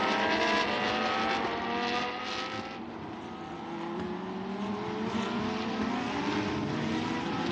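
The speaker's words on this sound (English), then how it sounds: "So the cars on the warming up lap with Patrick Cuéllar and Nelson Piquet then starting at the front" Lamborghini Super Trofeo race cars on a warm-up lap at a circuit, a continuous engine drone with gliding pitch as the field passes, fairly distant and steady with no talk.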